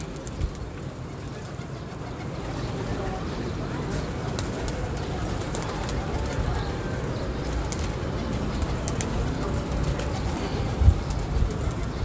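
Pigeons caught in a large net coo softly and steadily amid constant outdoor background noise, with faint fluttering and rustling throughout.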